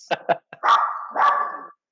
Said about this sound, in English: Oh, there's your dog.